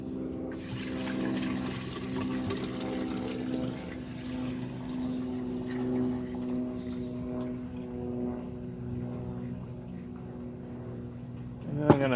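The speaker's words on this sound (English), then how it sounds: "I'm going to pour this in here" Solution poured into a tall-form beaker holding a coiled copper wire, used in recovering silver from scrap IC chips, giving a steady close liquid pour with a humming tonal drone, ending in a brief clink.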